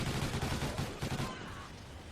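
Automated sentry guns fire a rapid, fairly distant burst in Call of Duty Ghosts Extinction. The chattering rattle is strongest at first and then fades to a softer tail.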